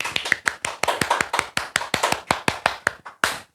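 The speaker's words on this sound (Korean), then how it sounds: "박수를 치면서 마무리합시다." Steady rhythmic hand clapping, about fifteen sharp claps at an even pace, marks the close of a high school math lesson on exponential and logarithmic functions; no talking.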